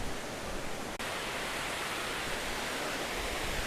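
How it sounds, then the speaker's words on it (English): A steady, even rush of falling water, a waterfall's constant roar with no change in rhythm, close and continuous throughout. "The sound of waterfall is very flat."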